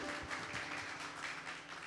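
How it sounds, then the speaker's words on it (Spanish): A church congregation gives soft, continuous applause, heard at a distance and fairly faint, without pause through the short stretch. "Aplausos."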